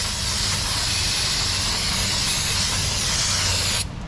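Steady loud hiss of spray cleaner blasting Toyota Sienna brake drums and springs, continuous and close for several seconds before cutting off abruptly near the end.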